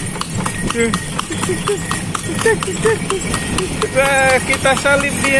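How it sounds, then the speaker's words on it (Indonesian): Horse hooves clip-clop steadily as a horse pulls a delman carriage around a fountain park in Purwakarta, a regular trotting beat close by under continuous talking. "Kita lagi naik delman, guys."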